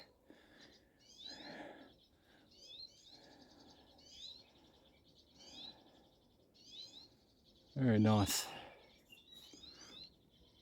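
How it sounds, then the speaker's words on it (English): Small birds chirp repeatedly in short bursts in a forest on a rocky track at Mopanui, with a voice speaking softly and a brief loud rustle or knock near the end. "Hear the birds in the background."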